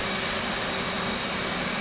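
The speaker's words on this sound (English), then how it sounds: "Now it is time to crank the left engine." The left engine of an F/A-18 cranks up inside the DCS World flight simulator, a steady, loud broadband jet whine and rush holding even throughout with no talk.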